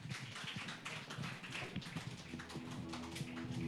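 A church congregation applauds together, dense sustained clapping filling the room at steady loudness, with faint tonal music or hum beneath.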